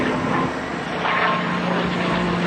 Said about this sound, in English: is at the controls of this beautiful P-51 Mustang right now